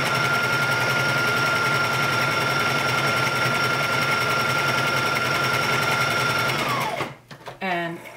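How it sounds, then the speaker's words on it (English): A sewing machine runs a long, steady basting stitch at a dress shoulder cap, a close, even mechanical whir lasting about seven seconds before stopping, followed by a brief voice. "I'm going to lengthen my stitch and just put in a basting stitch here at the shoulder"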